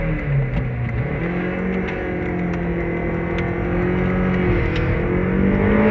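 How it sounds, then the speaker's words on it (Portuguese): A Honda Civic Si engine holds a loud, steady rev with rising and falling harmonic whine, close and continuous, building slightly toward the end as if about to launch. "Quando você quiser, acelera, corta de giro e sai."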